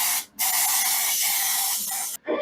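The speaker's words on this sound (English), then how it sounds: "because I bought the spray paint, we just like the color" Blue spray paint hisses from a can onto an epoxy countertop in two long, close, loud bursts, with a short pause between them and a sharp cutoff at the end.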